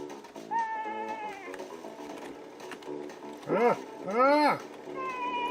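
Sheep bleating from the 'Sheep' program running on an IBM NetVista X40 computer: a few wavering electronic bleats, two loud ones close together near the end, over a steady background hum with other tones.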